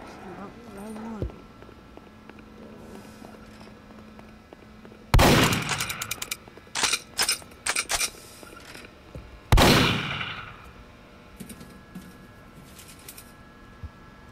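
Several gunshots in a Backrooms horror video game, with two loud blasts and a few quicker, sharper shots between them, each with an echoing tail, set against low ambient hum.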